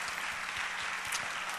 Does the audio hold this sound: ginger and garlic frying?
no